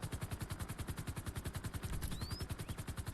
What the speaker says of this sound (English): Status of those shots fired